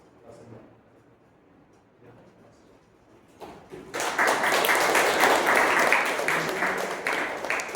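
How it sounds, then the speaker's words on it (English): An audience at a chapter meeting breaks into loud, sustained clapping after a quieter stretch with some murmuring, and the applause fills the room for several seconds. "I will give you a round of applause for you"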